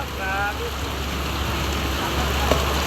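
Heavy rain pours down in a dense, unbroken roar of spray and patter, with a brief voice-like tone near the start.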